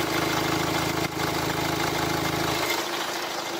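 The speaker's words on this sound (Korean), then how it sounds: "엔진 소음 먼저 들려드리면은" A Kia Sportage R with a 2.0 diesel engine idling, a steady near rumble with a faint rhythmic clatter, loud and unbroken, no talk.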